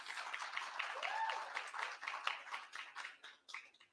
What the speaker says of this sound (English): a special round of applause for Caitlin Tyson for choreographing that opening number